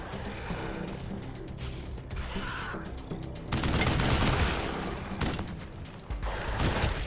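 A volley of gunfire bursts out during an ambush in the war video game Wasteout 3: FallLand, with dense rapid shots in heavy clusters over a steady background din.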